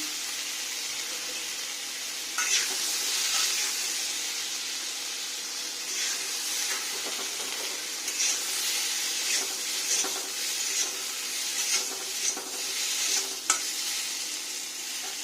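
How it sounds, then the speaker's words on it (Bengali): Potato pieces fry in melted butter in an iron wok, giving a steady close sizzle and hiss, with occasional scrapes and taps from stirring scattered throughout. "বাটারটা গলছে, এখানে আলু, এবারে ভেজে নেবো আলুটা।"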